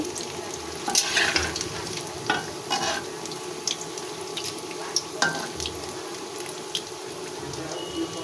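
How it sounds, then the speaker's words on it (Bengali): Egg chops deep-frying in hot oil for a Bengali iftar spread: a steady crackling sizzle with scattered sharp pops and occasional louder bursts, close and continuous. "ডিমের চপগুলো ভেজে নিচ্ছি"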